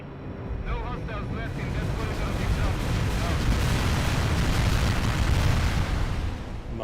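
Carpet bombing on a road in the strategy game World in Conflict, a continuous rolling roar of overlapping explosions that swells and holds loud, with a voice speaking over the opening seconds.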